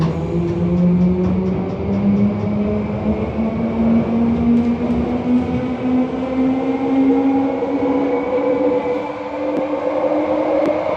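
A London Underground Bakerloo Line train rumbles loudly along the track, its motor whine rising steadily in pitch as it picks up speed.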